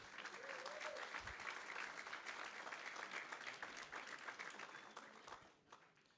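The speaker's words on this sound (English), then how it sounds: "I wanted to give a big round of applause" Sustained applause from an audience at an agtech and animal health summit, steady clapping that fades out near the end, heard from a distance.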